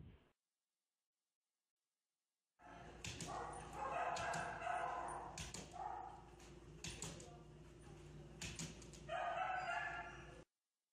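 A frustrated shelter dog barks in repeated loud, close bursts separated by short pauses, against a noisy kennel background.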